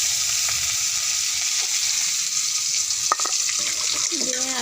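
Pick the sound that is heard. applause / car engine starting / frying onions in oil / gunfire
frying onions in oil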